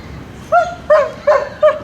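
A dog barks four times in quick short yips during a recall training lesson, close and fairly loud, each bark separated by brief pauses over a quiet outdoor background.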